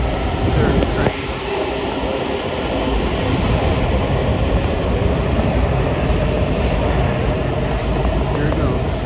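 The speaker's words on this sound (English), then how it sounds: "There are the trains." Trains roll past at an Arlington, Virginia station, a continuous broad rumble with high metallic wheel squeal and faint clatter, heard from a moderate distance.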